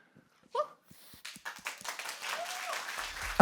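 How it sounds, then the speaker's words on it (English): Scattered clapping that builds into light applause at a corporate manufacturing forum award presentation, with a whoop and some voices mixed in. "We're applauding you all."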